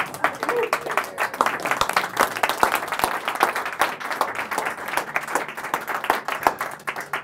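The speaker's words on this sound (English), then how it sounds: "give them a big round of applause" Audience applause at a live magic show, a steady wash of clapping from a small crowd that keeps going without a break and fills the whole stretch.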